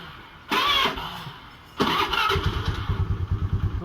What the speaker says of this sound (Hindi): देखो इस तरह से आवाज़ आ रहा है और बहुत देर बाद सेल्फ ले रही है